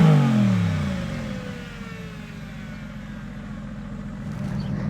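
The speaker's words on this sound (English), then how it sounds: "Now, for a turbo car, not half bad. It's got a growl to it, a little grunt to it." A turbocharged Mercedes-AMG GT engine revs up loudly at the start, then the roar eases back into a steady, close idle-like growl with a slight rise again at the end.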